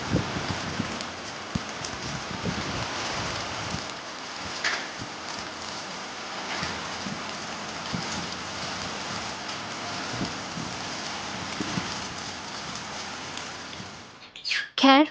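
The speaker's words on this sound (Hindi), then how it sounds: "एंड देन देखिए कितना बारिश हो रहा है।" Heavy rain pours down outside a home during a thunderstorm: a dense, continuous hiss of falling water with scattered drops hitting surfaces, and a brief clatter near the end.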